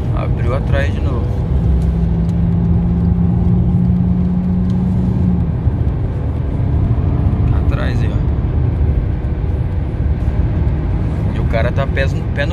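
Volkswagen Jetta 2.0 naturally aspirated engine running hard at full throttle while racing a Toyota Corolla 2.0 XEi, a steady loud droning rumble with a brief tonal whine, occasional speech from inside the car.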